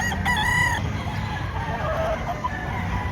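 A rooster crows loudly near the start while hens cluck and murmur steadily in the background at a chicken market in Padre Garcia, Batangas.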